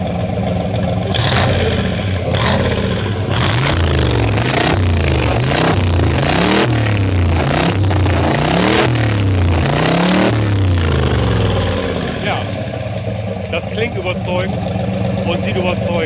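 A 1966 Chevrolet Corvette 427 big-block V8 convertible revs loud and close, several rising and falling sweeps in a steady rhythm, then settles toward a rough idle, with someone talking over the engine throughout.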